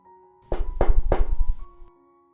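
Three heavy, evenly spaced knocks on a wooden gate at a traditional house at night, close and loud, with a soft sustained tone humming underneath.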